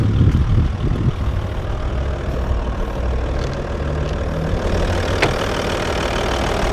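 An Audi A6 Allroad C5 with a 2.5 TDI AKE 180 hp diesel engine idles steadily, a close, constant low rumble with a slight knock and no voices.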